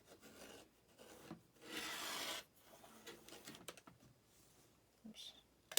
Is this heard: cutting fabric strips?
yes